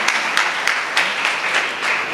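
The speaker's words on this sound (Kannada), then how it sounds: "ಒಂದು ಜೋರಾದ ಚಪ್ಪಾಳೆ ದುರ್ಗೇಶ್ ರವರಿಗೆ" Audience applause at a community kunitha bhajan program, a steady wash of many hands clapping with a few sharper bursts, loud and close throughout.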